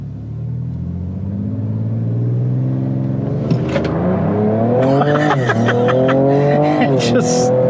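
A Ford Ranger Raptor with a Ford Performance tune accelerates hard from a standstill, its engine rumbling and climbing in pitch as a tire spins, loud and close, with voices heard over it near the end.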